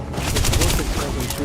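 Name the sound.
gunfire from enemies in the video game Starfield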